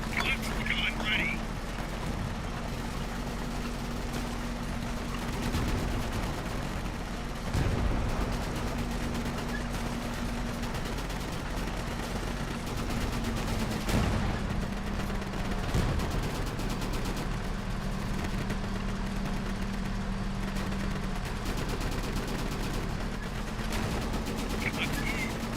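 Gunfire in the video game Easy Red 2 sounds in a steady battle din, with broadband bursts and a sustained engine-like hum beneath, while a player's voice talks over much of it.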